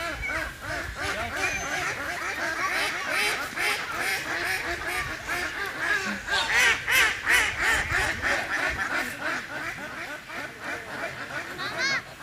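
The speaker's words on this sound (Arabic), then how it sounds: "فيه البط الوز، بط الوز" Ducks and geese at a lake quack and honk in a dense, continuous chorus, with some calls loud and close, and occasional voices talking faintly beneath.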